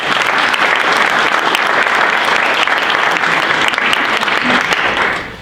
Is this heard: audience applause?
yes